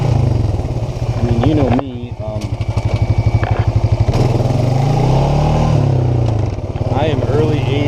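A mid-2000s quad ATV engine drones loudly and close while riding, with a steady pulsing rumble and rising and falling revs, as someone talks over it throughout.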